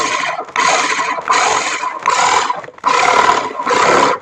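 A power drill bores into wood in repeated bursts, about six presses and releases, each a loud whining grind with short pauses between.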